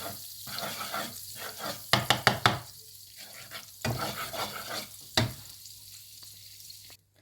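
Pork and egg fried rice stir-fried with butter in a pan, a steady sizzle broken by bursts of rapid spatula scraping and clanks, with quieter gaps between the stirring strokes.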